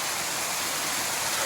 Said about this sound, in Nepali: वाटरफल चाहिँ यही हो है